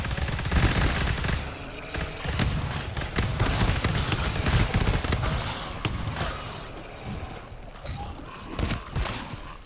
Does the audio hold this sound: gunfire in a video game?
yes